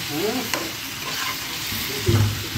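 Eggs cooking in a pan sizzle quietly while a utensil scrapes and taps, stirring them, with a louder clatter near the end; nobody speaks.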